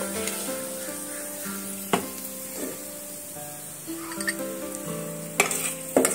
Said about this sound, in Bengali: এবার আমি তেলের মধ্যে ভালো করে দিয়ে ভালো করে ভাজা করে নেব